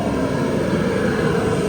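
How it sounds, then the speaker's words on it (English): A loud, steady roaring whoosh of an RV's heater running continuously, a broad rumble filling the space with no breaks. "so that's the heater going on"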